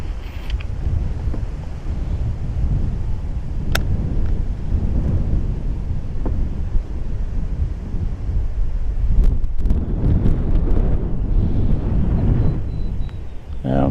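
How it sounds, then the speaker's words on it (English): Strong wind buffets the microphone in a constant low roar while fishing on open water from a boat, with a few faint clicks and taps under it. "Now the wind picked up."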